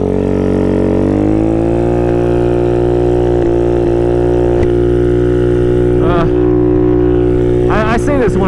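A Honda Ruckus scooter's small engine drones loudly and close while riding, its pitch rising as it speeds up early on, then holding a steady hum, with a voice speaking briefly over it near the end.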